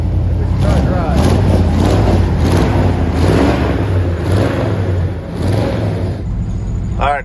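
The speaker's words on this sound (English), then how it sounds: "Engine sounds good." 1975 International Harvester 150 pickup engine running on its first drive in 14 years: a steady, loud, low rumble with a rhythmic throb, close up and continuous, with a voice talking over it.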